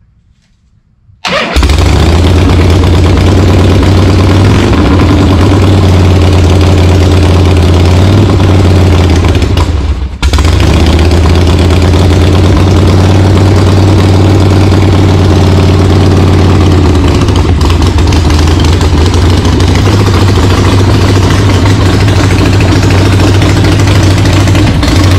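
A 1976 Harley-Davidson Ironhead Sportster chopper engine starts after brief silence, then runs loud and rough at a steady idle with the enrichener on, recorded up close; it falters briefly once before carrying on with no voices.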